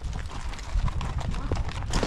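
Hooves of a herd of horses clip-clop and thud across the ground in the Wild West, a brisk uneven patter heard fairly close amid general outdoor noise.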